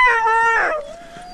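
A sled dog on a trapline lets out a single close, loud howl, its tone rising, breaking, then sliding into a long wavering note that fades out.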